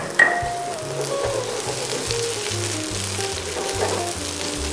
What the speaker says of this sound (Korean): 팬이 어느 정도 달궈졌으면, 자, 색깔이 없는 양파부터 은은하게 볶아주시면 됩니다